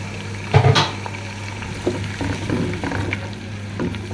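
A paste of ginger, garlic and green chilli is fried in a pot for mutton pulao, giving a steady bubbling sizzle with a few spoon-on-pan clatters near the start, heard close and alone.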